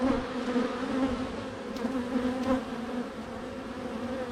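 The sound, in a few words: honeybees buzzing at hive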